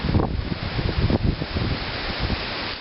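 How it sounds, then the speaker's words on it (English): Gusty wind buffets the microphone outdoors in the wilderness in rough low rumbles and rushes, rising and falling, with a faint rustle behind. "you might be able to hear that it's windy"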